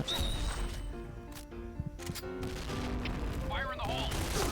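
Gunfire and explosions in the first-person shooter Point Blank, bursts of shots and booming blasts scattered across the moment over in-game music and effects, with a player talking alongside.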